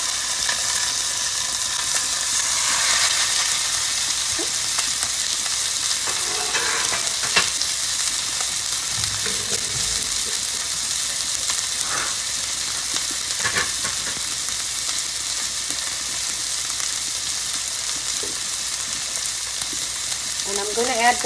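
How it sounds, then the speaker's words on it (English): A ribeye steak sears in a hot pan, producing a loud, continuous hiss-and-crackle sizzle that holds steady throughout, with a few faint utensil clicks scattered through it. "make sure your pan is hot when you're making the steak. So there's the steak on one side."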